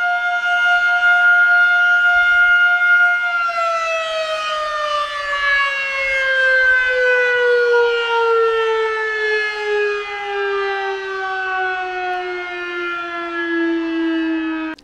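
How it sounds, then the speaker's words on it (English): An air raid siren sounds inside the abandoned Mina la Prieta mine in Parral, Chihuahua. It holds a loud, steady wail at first, then slowly falls in pitch over about fifteen seconds, with no other sound. "It's like an air raid siren."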